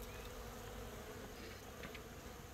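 Honey bees buzz densely at an open beehive, a steady close swarm drone filling the short stretch without talk.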